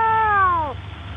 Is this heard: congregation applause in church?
no